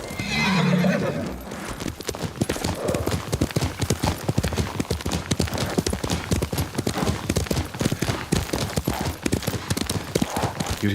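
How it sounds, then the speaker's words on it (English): A horse in the Ghost of Tsushima video game neighs loudly at the start, then its hooves clip-clop in a steady, close rhythm that carries on for about ten seconds. "Yuriko's horse. She can't be far."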